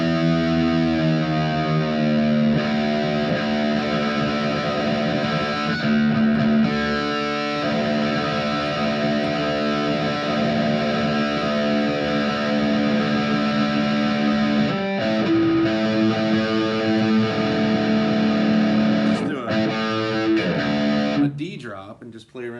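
A small, affordable amp and small electric guitar in drop D tuning, playing sustained heavily distorted chords and riffs at a steady loud level for over twenty seconds before cutting off.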